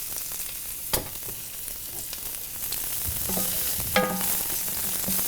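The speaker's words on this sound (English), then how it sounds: "Throw in these fresh mushrooms." Fresh mushrooms hit hot olive oil in a pan. A soft, steady sizzle follows, broken by a couple of sharp clanks and stirring scrapes, with no talking.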